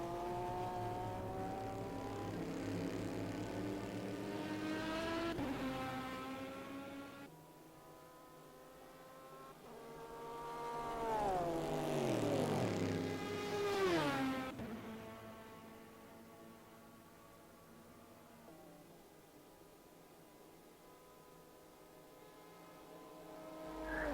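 Chevrolet race car engines in a virtual Le Mans endurance racing game, a sustained tonal roar with shifting revs and a louder rising-and-falling sweep as a car passes midway, then settling back to a steady drone.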